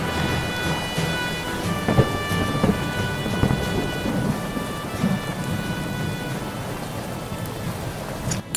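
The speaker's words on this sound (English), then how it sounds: "on a dark and stormy night" Heavy rain pours steadily on a stormy night while rumbles of thunder roll underneath, loud and continuous with no voices.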